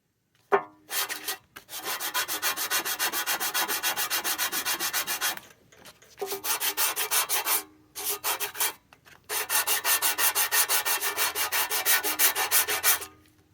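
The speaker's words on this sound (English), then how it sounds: "sandpaper that's relatively clean, doesn't have a lot of oil and crap and grease on it" Sandpaper rubbed rapidly back and forth on a rear brake rotor from a 2020 Dodge Charger, a close, rhythmic scraping in several long bursts separated by short pauses.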